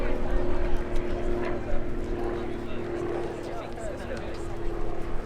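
An RAF Grob Tutor T.1 propeller engine drones steadily through an aerobatic loop, a continuous buzzing hum under a narrator's voice.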